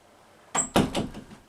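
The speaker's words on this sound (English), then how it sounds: "close the door behind us" An interior door in a house is pushed shut, giving a quick knock followed by a couple of dull thuds as it settles into the frame, close by in an otherwise quiet room.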